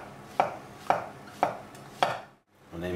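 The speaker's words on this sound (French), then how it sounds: "on va émincer les champignons" Four evenly spaced knife strokes chop through mushrooms on a board, crisp and close, each a sharp thud, followed by a brief pause and a faint clatter.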